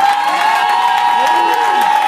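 A church congregation cheers and shouts in acclamation during a sermon, a loud unbroken roar of raised voices with whoops and a sustained vocal tone over the crowd.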